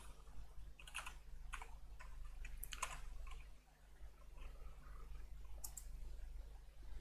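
Someone types on a computer keyboard, entering a name and age into a form. The keystrokes come in faint, scattered clusters of clicks over a low background hum.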